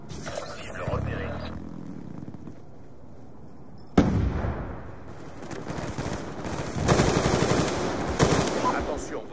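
Rapid machine-gun fire from an auto turret in Black Ops 2, with dense rattling bursts, explosive booms and battle noise that swell and fade across the scene, with radio-style voices talking over parts of it.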